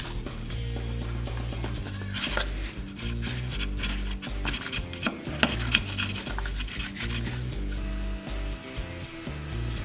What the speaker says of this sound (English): I will trim the epoxy flat with a chisel